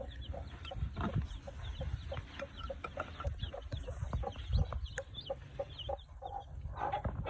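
A mother hen clucks softly and repeatedly nearby, low murmuring calls in an uneven rhythm, with faint chick peeping and rustling around it.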